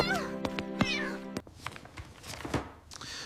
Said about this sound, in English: It's a cat, Dad.